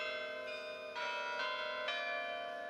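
Carillon bells in the North Tower of Grace Cathedral, 44 tuned bells, ring out in a steady sequence of sustained, overlapping tones, each strike blooming and lingering without any voices.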